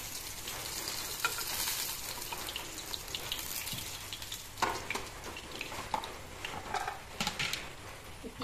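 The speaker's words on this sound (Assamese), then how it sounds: "মাছখিনি ইয়াতে নমাই ললো মই" Fish pieces sizzle steadily as they are lowered into a hot pan of oil for a kidney bean fish curry, a continuous frying hiss with a few louder crackles and stirring scrapes toward the end.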